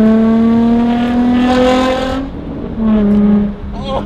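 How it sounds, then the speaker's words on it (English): A Nissan 350Z fitted with a cat-back exhaust revs loudly up and down, a raspy rising engine tone that drops off and then climbs again in a second rev, close and prominent. "Number three, cat-back exhaust. Get that loud."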